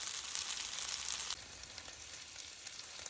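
Hash browns fry in bacon grease on a Blackstone griddle over medium heat, giving a steady, close, loud sizzle that drops slightly in level partway through and carries on unbroken, with no voices.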